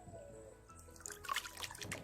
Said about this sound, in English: the reason for using the salt is to wash off the octopus to help to get rid of the slime